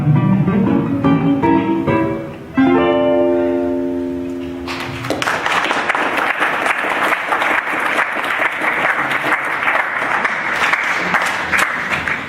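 Enthusiastic concert audience applause erupts after a sung passage fades, dense and loud clapping sustained for several seconds without talk.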